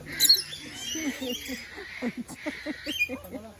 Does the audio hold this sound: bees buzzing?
no